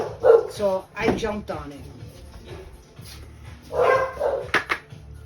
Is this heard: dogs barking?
yes